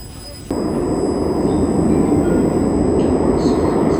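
An O-Train Line 1 tram in Ottawa, Canada, starts moving after a brief quiet moment and runs with a loud, steady rumble that continues to the end.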